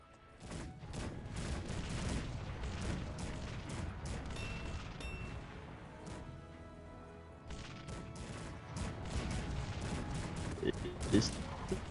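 Cannon battle in the strategy game Cossacks 3, with a dense, continuous barrage of booms, crashes and volleys of gunfire layered over ongoing commentary talk throughout.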